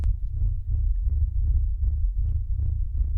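A dragon's heartbeat echoing through its lair as a sleep-aid ASMR effect, a deep, steady, throbbing double thump repeating about every half second, close and resonant with no talk.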